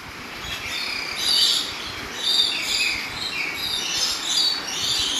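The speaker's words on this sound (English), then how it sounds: "It wasn't just one bird either, I think it was at least 3 or 4." Several birds, three or four at least, chirp and tweet in an empty park during a pandemic closure, overlapping high calls repeating steadily throughout, fairly close, with no voices.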